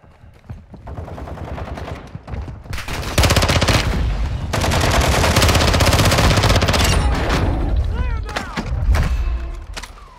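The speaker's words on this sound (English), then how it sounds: "Our mortar strike is inbound." Dense, loud gunfire and repeated explosive blasts from a mortar strike in Call of Duty: Modern Warfare II, building into a sustained barrage with rapid automatic fire, heard up close amid the chaos of the match.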